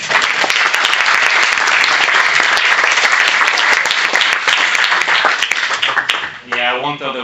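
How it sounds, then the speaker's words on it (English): Audience at a startup weekend closing ceremony applauding loudly and continuously for about six seconds, dense clapping that fades as a voice begins speaking at the end. "Round of applause, please."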